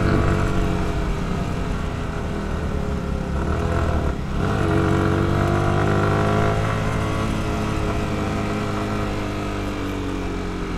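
A motorcycle rides along the hilly road from Baghaihat in Khagrachhari toward Sajek. Its engine rumbles steadily and loudly throughout, with shifting pitch as it works the road and a constant rush of wind noise.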